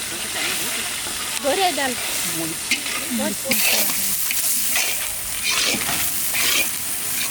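Onions frying in hot oil give a steady, close sizzle and hiss, with brief stirring sounds and short bursts of talk over it.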